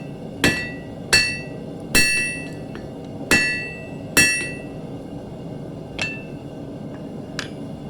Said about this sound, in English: You make a mistake, you just hammer it back out.